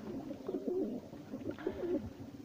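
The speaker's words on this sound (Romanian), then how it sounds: "Ăștia sunt porumbei care o să-i duc mâine la zbor." Racing pigeons coo softly and closely in two repeated throaty bursts, a low, rolling, gentle sound with no voices over it.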